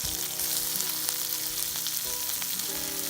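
Yucca flowers fry steadily in olive oil and butter, giving a continuous close sizzle with soft crackles and a few brief stirring scrapes, with no one speaking.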